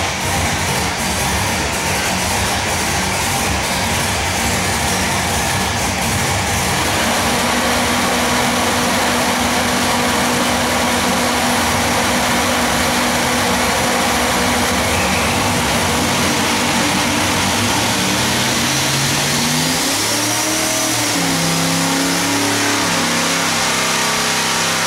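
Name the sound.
2,000+ hp F2 ProCharged big-block engine making a pull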